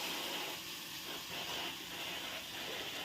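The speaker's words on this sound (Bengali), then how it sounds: "ও বাবা, ওই পেছার পরে আবার কি আওয়াজ হচ্ছে? দেখো মাছের ঝাল হচ্ছে।" A fish curry of tomato, onion and green chilli sizzles in the pan, giving off a steady, close hiss of steam that barely changes over the few seconds.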